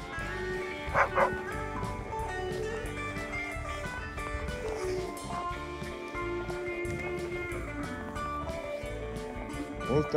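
Wolfdogs bark and yip in short, repeated bursts over steady music, playing in the year's first snow, the barking fairly close and lively throughout.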